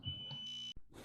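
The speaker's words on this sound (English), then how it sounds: "sorry for the beeping, it's just the garage door is like low battery, the remote" A garage door remote low on battery gives a short high-pitched electronic beep, a single sustained tone cut off abruptly, faint and brief.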